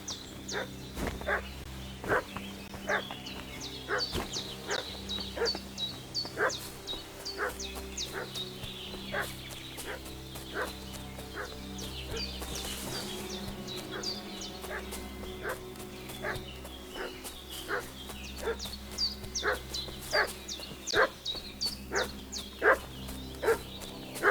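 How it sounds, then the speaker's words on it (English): In the video game Kingdom Come: Deliverance II, a dog barks repeatedly in a steady, insistent rhythm over a low ambient background, moderately distant. "What's that dog making such a fuss about?"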